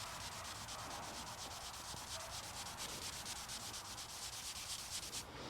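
Silica carbide sandpaper sanding a car's clear coat, a continuous rhythmic raspy scrubbing heard close and alone, with fast repeated back-and-forth strokes throughout.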